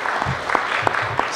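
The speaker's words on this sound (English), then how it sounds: "One more round of applause for Councilmember Stewart." An audience claps at a community meeting, a short burst of steady mid-sized applause with a few sharper claps standing out.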